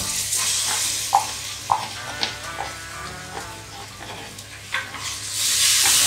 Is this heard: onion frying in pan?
yes